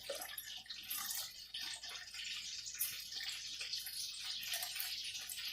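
Water pours steadily into a pot, a continuous splashing rush with no talking.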